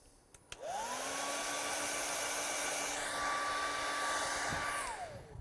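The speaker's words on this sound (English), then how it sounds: "Now if I take the hairdryer" A hairdryer switches on after a couple of clicks and blows with a steady, close whir, its pitch shifting slightly midway before it winds down near the end.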